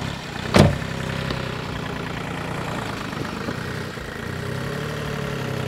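A Volkswagen Polo engine runs steadily at a low, even rumble, with one brief knock near the start and no voices.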